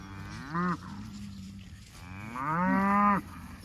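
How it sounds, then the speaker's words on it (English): Cattle in a spring calving herd on pasture moo twice, a short low call followed by a longer drawn-out one, close and loud with no talking. "Here come the cows."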